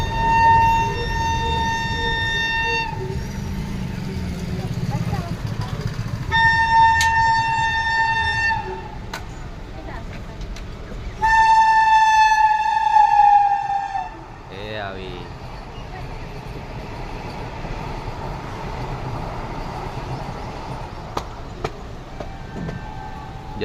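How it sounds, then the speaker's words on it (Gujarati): A long train passes a busy railway road crossing near Junagadh, sounding three loud, drawn-out horn blasts over a rumbling roar of wagons that fades away, with voices nearby. "જતી રહી આવીને તો બહુ મોટી રેલગાડી હતી."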